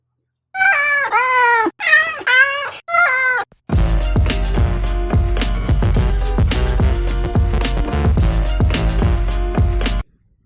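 A cat meows several times in a row, loud and close, with drawn-out wavering cries, then a burst of dense, busy music takes over for the remainder.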